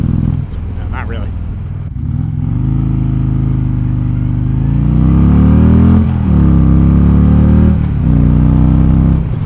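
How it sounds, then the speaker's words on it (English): A loud motorcycle engine revs up and down repeatedly, its pitch rising and falling with each twist of the throttle, close by and continuous. "Throttle revving."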